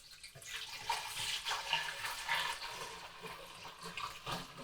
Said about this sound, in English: fill up with hot water to the fill line, put the cap on, and then give her a good shake